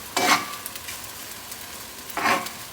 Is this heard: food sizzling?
yes